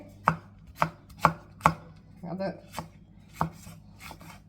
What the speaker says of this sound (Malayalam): നമുക്ക് റൗണ്ടിൽ കട്ട് ചെയ്തെടുക്കണേ